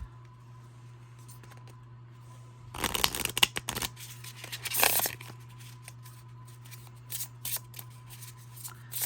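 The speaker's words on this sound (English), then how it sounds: "let me do a little shuffle for this one" A tarot card deck is shuffled up close, a burst of riffling and flapping card noise lasting a couple of seconds, then a second short riffle, over a steady low hum with quiet handling afterward.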